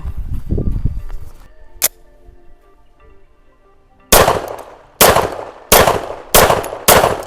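Five sharp pistol shots from a CZ Shadow 1 Orange ring out in the second half, loud and close, spaced roughly half a second to a second apart, after a quieter stretch with a faint earlier crack and low background noise.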